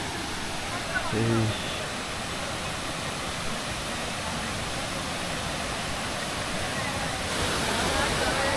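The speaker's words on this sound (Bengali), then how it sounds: "আমরা ওই ঝর্ণার কাছে চলে আসছি" A waterfall at Jaflong, among rocks and a fairly strong stream, roars as a steady broadband rush that fills the whole stretch, with a brief low sound near the start.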